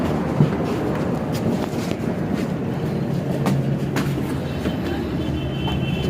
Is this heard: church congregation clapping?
no